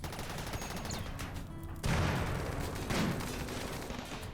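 Turret gunfire in the colony game RimWorld during a raid, a dense, continuous fusillade of rapid shots with heavier bursts hitting around the two- and three-second marks, loud and sustained throughout.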